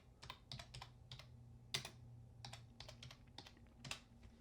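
Someone types on a computer keyboard while entering details for a real estate closing report, with irregular bursts of key clicks and a few louder thumps over a low steady hum, close and fairly quiet.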